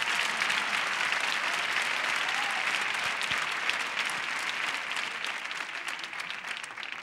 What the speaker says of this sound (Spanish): ¡Fuerte el aplauso para la paloma!